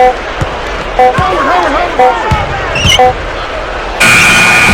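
In NBA 2K11 on Xbox 360, a long, loud electronic buzzer blares at the end of a buzzer beater, following sneaker squeaks, ball bounces and short beeps over steady crowd noise.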